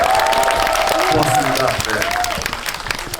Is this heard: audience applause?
yes